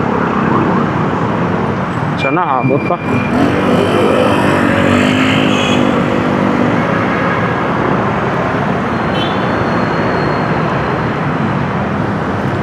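Steady road traffic rumble heard from inside a moving car in the Philippines, a continuous loud drone for the whole stretch, with brief talk near the start and a faint horn or siren tone passing.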